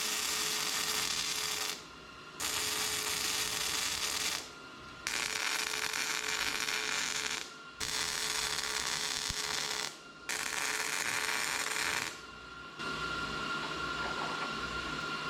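Steel hitch pieces for a 1963 International Loadstar truck are arc welded in several long bursts, each steady, crackling hiss lasting a few seconds with brief pauses between passes, close and fairly loud with no talking.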